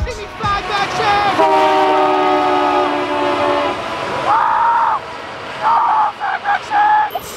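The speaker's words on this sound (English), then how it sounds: "Here comes the train!" A rail track maintenance train rumbles past on the track, with long sustained horn or whistle tones early on and then several shorter loud horn blasts near the end, fairly close and loud throughout.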